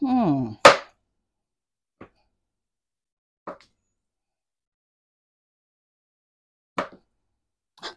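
A knife cutting sausage on a board: a few sharp, isolated chopping taps spaced irregularly across otherwise near silence, after a short burst of talking at the start.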